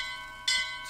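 A bell strikes once in the video game Bioshock Infinite, a bright metallic ring that swells suddenly over a faint, steady hum and then decays.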